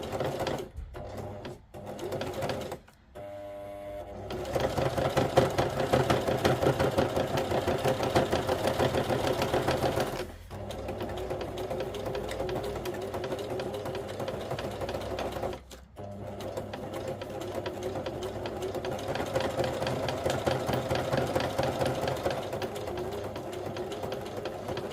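A sewing machine runs a straight stitch through very thick fabric, a loud continuous mechanical whirr with a few brief stops and restarts between long runs of stitching.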